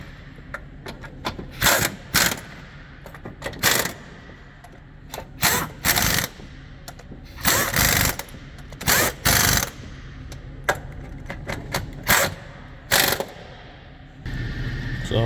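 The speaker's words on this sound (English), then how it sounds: "I use my Milwaukee ratchet to get it in." Milwaukee power ratchet tightening a motor mount bracket on a Chevy/Buick 1.4T engine, with about a dozen short, loud whirring bursts separated by brief pauses and faint clicking in between, and no talking.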